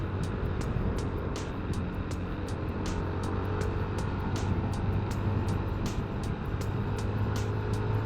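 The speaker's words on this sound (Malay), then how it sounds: "Banyak betul lori" Steady, dense road traffic with heavy trucks passing on a Malaysian road, a continuous low rumble and wind roar heard from a motorcycle with regular ticking throughout, no talk over it.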